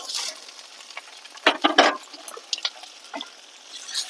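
Ginger paste, pepper powder, green chillies, cumin paste and tomato frying with browned onions in a pan, a soft sizzle broken by a few sharp scraping stirs and clinks, quiet between them.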